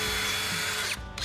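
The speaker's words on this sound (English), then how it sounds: "Lucky there's a light on that drill." A cordless power drill with a built-in light whirs steadily at full speed during scrap-wood Christmas tree building, close and loud, then briefly eases off near the end before spinning back up.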